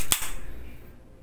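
A single sharp pistol gunshot fired while zeroing the sights rings out right at the start, its crack dying away in a short rumbling tail with no talk.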